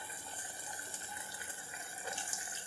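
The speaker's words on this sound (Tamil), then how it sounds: "தண்ணி வந்து கொஞ்சமாக சேர்த்துக்கலாம்." Steady running water pours continuously into a cooking pot without a break, fairly quiet, with no voices.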